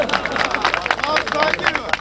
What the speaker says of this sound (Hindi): लेकिन ताली मारो ना